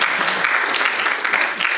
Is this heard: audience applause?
yes